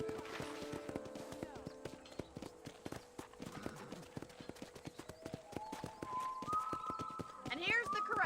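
Horses clip-clop across a ranch corral in Red Dead Redemption, hooves thudding in a steady, fairly close rhythm over ambient game music, with a horse's neigh rising near the end.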